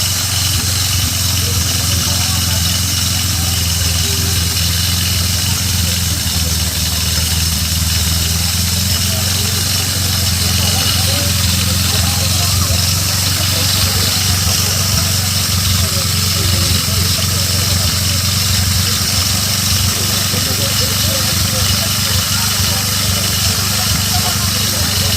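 An auto race motorcycle fitted with a silencer muffler idles at an auto race event. It gives a steady, even engine drone that runs unbroken throughout.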